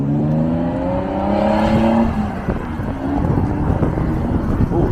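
A Lexus SC300 with a muffler delete runs close by, its engine tone rising as it pulls away, then a rough, rumbling exhaust drone continues with wind buffeting.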